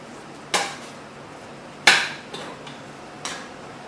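A tire spoon levers a motorcycle front tire off its rim, heard as three or four sharp metallic clanks and knocks at uneven intervals, close up against a quiet background.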